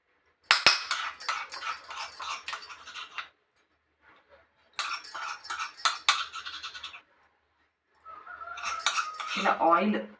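A spoon clinks and scrapes as amla (Indian gooseberry) pickle is moved into a jar, in three separate spells of close metallic rattling with brief quiet gaps between them.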